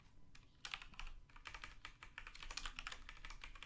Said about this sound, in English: hear me madly clicking away in the background